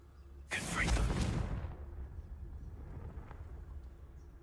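A Confringo spell blast in Hogwarts Legacy goes off as a single loud, booming burst with a whooshing rush, then fades into a low rumbling tail.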